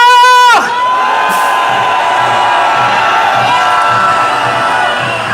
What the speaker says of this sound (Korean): 우리 함성 질러보고 행진 이어가 보도록 하겠습니다. 제가 함성 시작해 보도록 하겠습니다. 함성 시작!